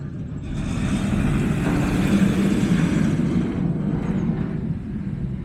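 A roller coaster train at Drayton Manor roars along the track, a loud, steady low rumble that swells in and holds for several seconds before easing slightly, with no voices.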